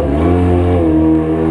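A Yamaha XJ motorcycle engine runs close and loud with a steady, throaty harmonic drone, its pitch easing slightly down partway through.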